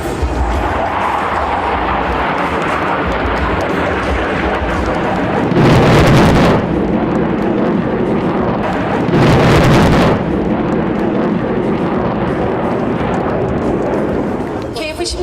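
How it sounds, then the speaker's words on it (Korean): MK-82 aerial bombs dropped by a formation of FA-50 fighter jets explode during a combined live-fire military exercise, two heavy booming blasts rolling out a few seconds apart over constant wind noise and a narrator's voice. "진입하고 있는 FA-50 전투기 편대가 MK-82 항공탄으로 적기계화 부대를 타격하겠습니다."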